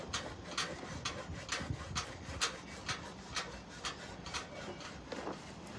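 A metal scraper rasps across a well-seasoned grill grate in a steady run of short, evenly spaced strokes, close and moderately loud with no talking.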